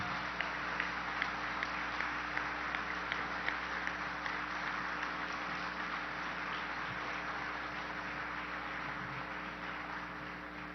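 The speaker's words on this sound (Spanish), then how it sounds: "quiero que le demos un abrazo y un aplauso muy especial" An audience at an event with President Santos gives a sustained round of applause for Socorro Ramírez, a dense, steady wash of clapping held over a constant hum, lasting through the whole stretch without voices.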